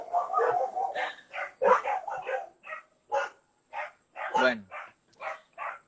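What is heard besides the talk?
dogs barking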